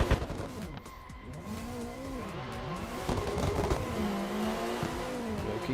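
A Toyota Supra and a GT86 drifting together on a track, engines revving and wavering with tire squeal, heard at a moderate distance under crowd ambience.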